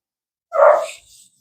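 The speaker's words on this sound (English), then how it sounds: "Your dog's going to keep barking." A dog gives a single short, loud bark at close range, alone against silence, with a faint trailing huff after it.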